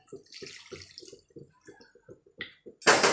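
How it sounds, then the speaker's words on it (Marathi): Two cups of water go into a pan of premix dry gravy masala for shev bhaji: a series of short, close splashes and trickles, ending in a louder gush. "2 कप पाणी घालत आहे"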